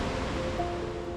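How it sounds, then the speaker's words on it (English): Ocean waves wash steadily near coastal cliffs on a calm day, a broad, continuous rushing roar without distinct breaks, fairly loud and close. "It's a very peaceful day except for the noise of the ocean."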